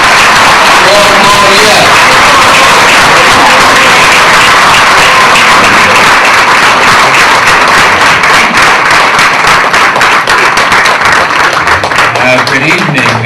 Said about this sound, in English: Please give a big hand in welcoming the mayor for 4 more years.